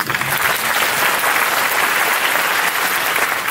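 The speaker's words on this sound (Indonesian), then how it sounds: "Oh yang diberkati Tuhan masih tepuk tangan." A church congregation at a Sunday worship service applauds steadily and loudly throughout, a dense, even wash of many hands clapping with no pauses and no voices over it.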